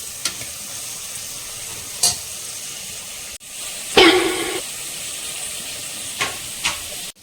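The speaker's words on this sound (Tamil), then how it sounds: "ஆயிலில் வெங்காயம் நல்லா வதங்கினதுக்கப்புறம் பார்த்துக்கலாம் வாங்க" Onions sautéing in oil for a mutton biryani give a steady, moderate sizzle with a few sharp stirring scrapes, one louder burst of frying midway, and no voices.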